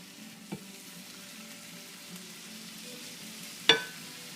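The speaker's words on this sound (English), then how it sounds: "we'll turn a little bit higher of a heat for the carrots here so they start cooking faster" Carrots for borscht frying in a pan over raised heat, a faint, steady low sizzle with a couple of small clicks and one sharper knock near the end, close by and quiet with no talking.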